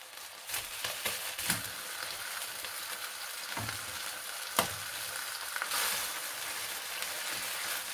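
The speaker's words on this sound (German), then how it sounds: "Die müssen alle noch richtig anbraten." Pork schnitzels sizzling in a frying pan on a stovetop, a steady crackling fry with scattered louder pops and spits, moderately close and with no talking.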